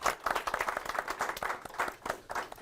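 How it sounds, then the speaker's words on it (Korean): An audience at a live Korean CEO talk-show event applauds the two MCs. Brisk, dense hand clapping from a roomful of people runs steadily for a few seconds, with no voices. "자, 오늘 소개해 주신 두 분 MC분들 박수 드리겠습니다"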